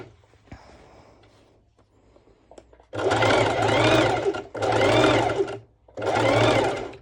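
A sewing machine runs a straight stitch along the edge of stretch fabric in three loud, close bursts of steady whirring, separated by short pauses. Faint quiet sounds come before the first run.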